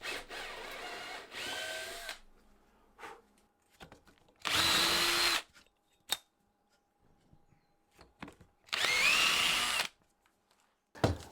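A power drill whirs in three separate loud bursts, each a second or two long, drilling holes in wood through a drill guide, with quiet pauses and small clicks and knocks between.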